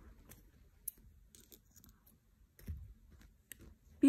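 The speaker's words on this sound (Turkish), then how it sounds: "İpimi kesiyorum." Scissors snip through yarn while a baby sweater is crocheted, giving a few quiet, close clicks and snips scattered over a soft background, with one sharper snip near the end.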